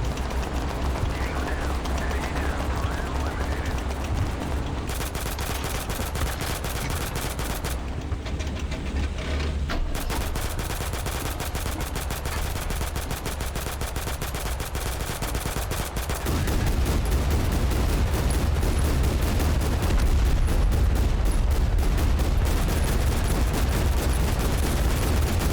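Rapid gunfire and bursts of automatic weapon fire in a war video game battle, dense and continuous with a heavier, louder stretch near the end, a voice talking over it at times.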